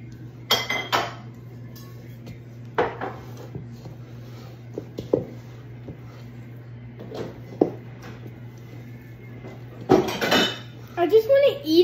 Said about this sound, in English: I need to just continue mixing it